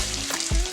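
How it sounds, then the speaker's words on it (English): Eggs fry on a hot griddle with a loud, even sizzle, and a single quick spatula scrape and thud marks the flip in a brief moment. "In the meantime, flip my eggs over just a little bit."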